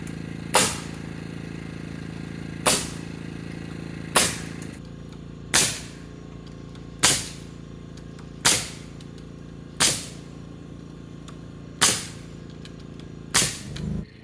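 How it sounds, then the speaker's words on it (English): A pneumatic nail gun drives nails into 2x6 lumber while a post is fastened for a barn build, firing about ten sharp, loud cracks at a steady pace roughly a second and a half apart, with a low background hum. "We have our nail gun ready and our 2x6 is ready. Let's climb up there and shoot it on."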